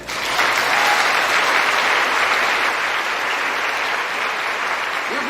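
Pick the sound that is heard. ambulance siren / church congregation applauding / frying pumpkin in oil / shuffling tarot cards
church congregation applauding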